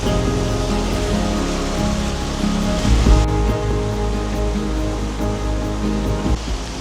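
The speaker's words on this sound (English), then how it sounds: "sitting by the river and listening to the river run" A river running through a Cotswolds village, a loud, close, continuous rush and gurgle of flowing water with no voices.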